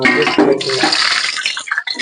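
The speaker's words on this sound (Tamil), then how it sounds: "இந்த கரண்டியில் தண்ணி இருக்கனால வந்து அந்த மாதிரி வெடிக்குது" Whole spices crackle and spit in hot oil in a pan while cooking basmati biryani, with water from a wet ladle making it sputter; a loud, dense, continuous sizzle close by with no talk.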